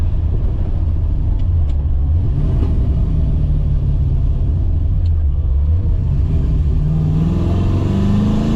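A 1991 Fox body Mustang with a 5-liter engine fitted with heads, cam and intake drones under acceleration, its pitch rising and falling through shifts as the rumble climbs again, loud and close throughout.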